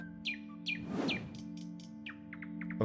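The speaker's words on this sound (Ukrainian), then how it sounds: "Це соловей." A nightingale sings in a rural Slavic settlement scene, with several bright, repeated chirps and quick whistled phrases spread across the clip over a low, steady background hum.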